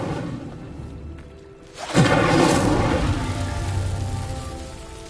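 Incendio fire spell in Hogwarts Legacy lighting a pyre: a low rumbling whoosh bursts in sharply about two seconds in, then holds as a sustained crackling roar of flame that slowly fades.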